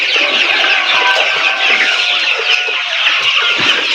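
A dense flock of Sonali super hybrid chickens on a poultry farm clucks continuously and loudly, with overlapping calls from many birds close by and no talking.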